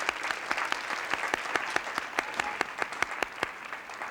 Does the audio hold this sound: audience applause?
yes